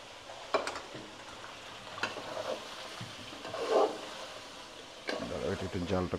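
Cubed onions frying with spice mix in a pan for a Chittagong-style kala bhuna, a steady sizzle with stirring scrapes and clinks close by, voices talking over parts of it.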